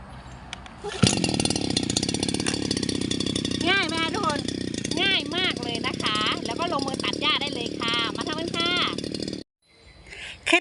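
A petrol grass trimmer, run on a fuel and oil mix, starts with a sharp burst and then runs loud and steady close by. Someone talks over the engine throughout, and it cuts out near the end.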